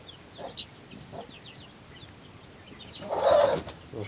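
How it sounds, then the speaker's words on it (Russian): Young chicks peep in short high bursts while a hen clucks, close and fairly quiet, with a louder hen call near the end and no talk. "Вот такие уже цыплята младшие."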